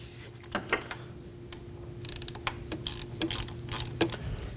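A ratchet clicks in short bursts while snugging valve cover bolts on a 2003-2006 Subaru Baja 2.5L H4 engine, close and crisp with brief pauses between strokes; no talking.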